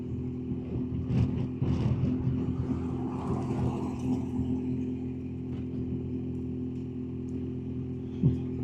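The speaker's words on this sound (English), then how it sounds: "Car coming, it's leaving up quite big, passing now." A car passes on a New Zealand road near Queenstown, heard from a moving two-up motorcycle. It swells briefly over the steady drone of the motorcycle engine and wind.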